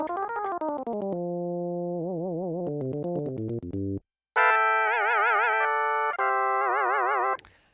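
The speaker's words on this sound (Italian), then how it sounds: "Questo è un Hammond." A Hammond organ sound on a Korg DS-8 synthesizer plays sustained chords with a wobbling vibrato, stepping down through lower notes, then jumping to a higher, brighter register before cutting off.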